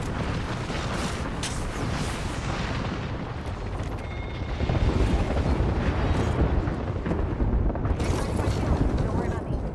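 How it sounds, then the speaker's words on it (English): An airstrike in a shooter video game sets off a barrage of booming explosions, loud, dense and rumbling continuously for several seconds, swelling again toward the end as blasts keep landing nearby. "Airstrike."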